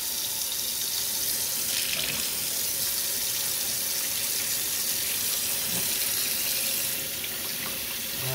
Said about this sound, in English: I'm just gonna kind of fill the sink up with